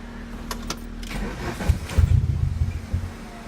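A Volkswagen Cabrio engine being cranked: a few light clicks, then the starter turning over and the engine catching with rough, uneven low rumbling pulses, close and fairly loud, with no voices.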